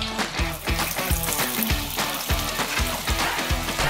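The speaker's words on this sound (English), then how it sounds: "So these are frying away lovely." Homemade potato fries frying in hot oil, a loud, steady sizzle with dense crackling and bubbling that continues without pause, close to the microphone and with no talking.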